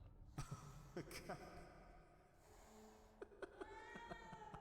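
A cat meows a few times in the Stasis video game. The calls are short and moderately close, with game ambience and other noises around them.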